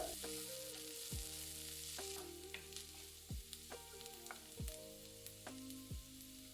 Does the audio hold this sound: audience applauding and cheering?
no